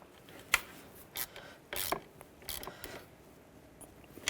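A car battery terminal being tightened on a 1998-2010 Volkswagen Beetle gives sparse, quiet metallic scrapes and clicking ratchet-like rubs at irregular intervals, with no talking.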